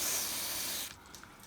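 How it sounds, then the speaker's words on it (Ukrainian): WD-40 penetrating oil hisses out of an aerosol can onto a stuck bolt on a DAF 106 truck, a short close spray that cuts off abruptly after about a second, leaving quiet. "Болт не відключується, беремо ведешкою."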